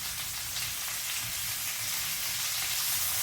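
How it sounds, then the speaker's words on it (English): Onion frying in popping grease in a skillet, a steady close sizzle with scattered crackles and pops running throughout, no talk. "the grease is going to be popping"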